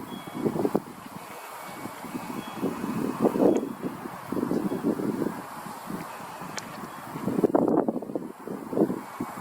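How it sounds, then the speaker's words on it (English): Gusty wind blows across an open outdoor microphone on a sunny day, rumbling in uneven surges that swell around the middle and again near the end, with a steady low roar in between. "It's windy out today."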